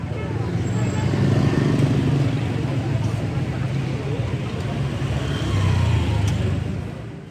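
Dense motorbike traffic fills a Hanoi street, a loud, constant roar of engines with rising revs and passing bikes, while crowd chatter runs underneath.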